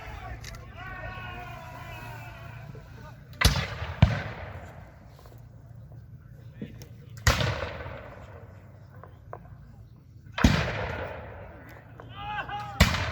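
Cannon blasts at a Dade Battlefield reenactment: three loud booms spaced several seconds apart, each with a rolling tail, over a background of crowd chatter and outdoor murmur.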